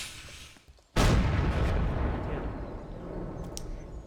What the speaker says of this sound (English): if I'm ready to shoot, I'm going to get on the cannon again